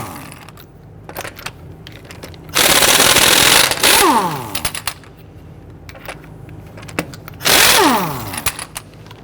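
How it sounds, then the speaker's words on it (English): Lug nuts on a Ford Taurus wheel are loosened and removed with a 19mm socket on an impact wrench, heard as two loud, close, buzzing bursts, each followed by a falling whine as the tool spins down, over quiet background clatter. "loosen and remove the lug nuts."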